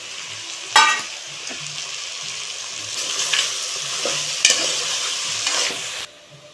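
Vegetables, peas and meal maker chunks frying in a pan for veg biryani: a continuous close sizzle punctuated by a few sharp spatula scrapes and stirring clatters, with no voices.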